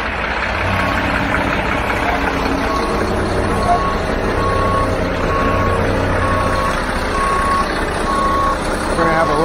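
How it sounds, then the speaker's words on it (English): A conveyor truck backs up at a concrete pour, its backup alarm beeping steadily at an even rhythm over a loud idling diesel engine, close and continuous throughout. "we can just get the conveyor truck back"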